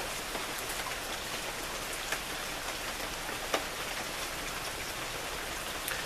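Steady rain falling, a dense continuous hiss with occasional louder drops hitting a surface, even and unbroken throughout, no voices.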